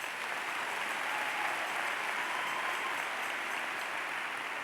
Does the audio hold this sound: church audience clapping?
yes